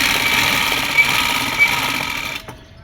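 A sewing machine stitching a palazzo pant runs in a steady, fast, close whir for over two seconds, then stops abruptly into near silence.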